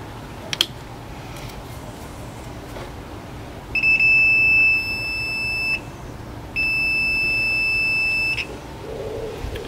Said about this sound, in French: On a un bip qui nous indique qu'on a inversé les bornes.